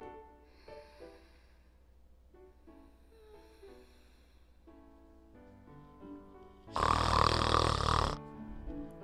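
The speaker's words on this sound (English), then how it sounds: "Yeah, she does snore loud, Satoshi." A sleeping girl in the horror game Corpse Party: Book of Shadows snores, with soft snorts and breathy grunts over quiet game sounds, then a burst of loud, rasping snoring lasting about a second.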